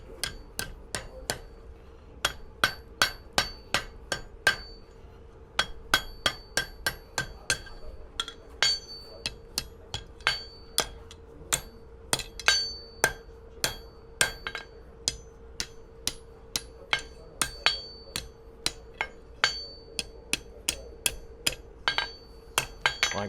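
A blacksmith shapes metal on an anvil for a squirrel cooker, striking with a hammer in sharp, ringing blows that come in quick irregular runs with short pauses, fairly close and alone.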